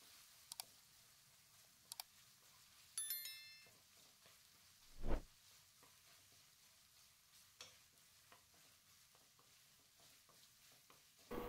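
Quiet, soft sizzling of curry paste with a little water in a wok, with occasional scraping stirs and a few light clicks and taps of utensils, close and low in level.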